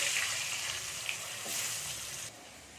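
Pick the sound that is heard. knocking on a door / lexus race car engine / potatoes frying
potatoes frying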